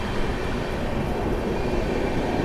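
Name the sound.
Paschim Superfast Express train departing Sonipat Junction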